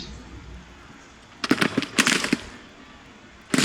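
Crackling volleys of musket gunfire in the Civil War strategy game Grand Tactician, two clustered rattling bursts after a quiet stretch, then another sharp volley at the very end.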